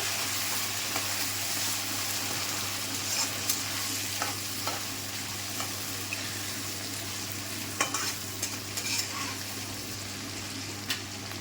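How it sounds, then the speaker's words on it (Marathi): Chopped tomato and onion fry in a pan for dhaba-style dal tadka, giving a dense, continuous sizzle up close, with occasional spatula scrapes and stirring clicks. "आता मी ह्याचं ना 1 टोमॅटो कट करून घेतला होता ते टाकून घेणार आहे आणि ह्याला पण पूर्णपणे तळून घेणार आहे."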